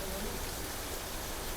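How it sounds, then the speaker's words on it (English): Heavy rain falls outdoors along the Appalachian Trail, a steady, even hiss that holds without a break, moderately quiet and with no talk over it. "there's so much rain out there."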